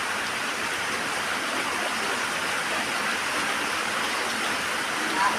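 Soft, constant rainfall hissing in the background, a steady even wash of noise without pauses.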